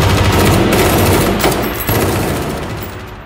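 Dense, sustained automatic gunfire fills a tense military raid scene in a UNIT audio drama, loud and continuous throughout with a few heavier bursts, slowly easing off toward the end.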